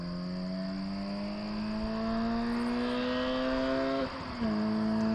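A Toyota GT86 race car with a big brake kit drives while bedding in its brakes, the engine note climbing steadily under load before a brief gear-change dip and then pulling on again, loud and close.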